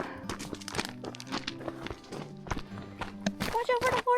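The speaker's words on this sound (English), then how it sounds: "Watch out for the horse" A horse walks along a mountain trail, its hooves clip-clopping in a steady rhythm nearby, while people talk over the sound of the steps.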